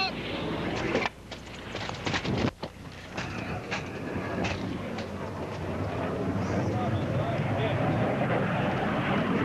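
Military aircraft flying over a bombing range during tactical bomb delivery, a steady broad jet roar that rises and holds loud throughout, with a few brief dips early on and voices speaking over it.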